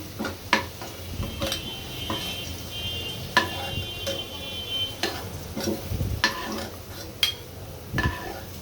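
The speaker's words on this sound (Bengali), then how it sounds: "এভাবে উল্টে পাল্টে আমি আলুগুলো ভেজে নিচ্ছি।" Potato pieces frying in a pan and being turned over, with a steady sizzle broken by repeated clinks and scrapes of a utensil against the pan.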